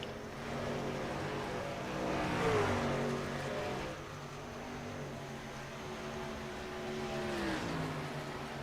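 NASCAR Truck Series race trucks roaring around the Dover track, engines droning steadily at a distance with a rising and falling pitch as trucks pass.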